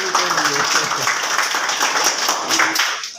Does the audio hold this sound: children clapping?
yes